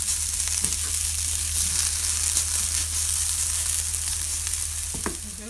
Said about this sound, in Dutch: Dan ga ik de champignons en de paprika bakken.